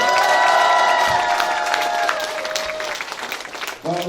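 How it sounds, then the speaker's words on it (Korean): Audience applause at a Democratic Party member education event in Incheon, loud close clapping that starts at full strength and gradually thins out, with a few whoops and a voice coming in at the end. "큰 박수 부탁드리겠습니다."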